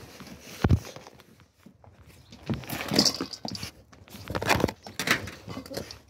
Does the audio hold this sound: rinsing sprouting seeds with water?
no